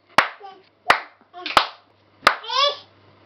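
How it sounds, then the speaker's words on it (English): Four sharp, close hand claps ring out at uneven intervals, each followed by a voice or singing in the gaps, in a quiet indoor room with a low fan hum. "Clap, clap your hands."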